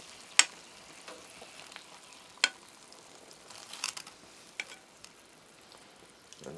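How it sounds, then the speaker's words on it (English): Sausages fry quietly in a covered pan on a wilderness woodstove, a faint steady sizzle broken by a few sharp clicks and light scraping knocks. "we've got our sausages cooking, and I'm going to turn them over"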